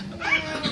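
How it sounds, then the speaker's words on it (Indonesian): A cat gives a drawn-out meow, close and clear, rising and falling over a faint background hum. "kalau dengar suara kucing"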